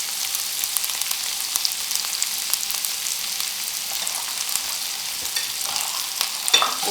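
Three medium onions frying in a pan for a butter chicken gravy, giving a continuous close crackling sizzle with faint spoon scrapes, steady throughout and heard alone.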